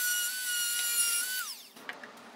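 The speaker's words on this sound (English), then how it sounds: "Now I'll cut the T-track to size." A high-pitched power tool whines steadily while cutting a metal T-track to size, then winds down with a falling pitch, followed by a few faint clicks.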